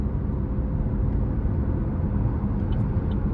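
Chevrolet TrailBlazer 1.2-litre turbo engine with CVT, heard from inside the cabin during a drive, a steady low droning hum of engine and road noise rising under throttle, close and continuous.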